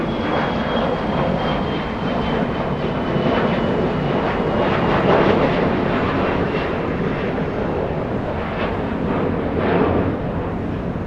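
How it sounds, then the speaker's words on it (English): A SkyWest jet airliner departing Los Angeles International Airport for Tulsa, a loud broad rumbling engine roar that swells and surges unevenly, close and sustained with no voices. "A departure American, correction, SkyWest, 6268, heading to Tulsa, Oklahoma."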